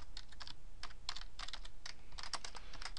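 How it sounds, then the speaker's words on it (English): Computer keys clatter close by as someone enters a keyboard shortcut while working in Excel, several rapid bursts of sharp plastic clicks with brief pauses between them, no voices. "I'm going to do the keyboard shortcut."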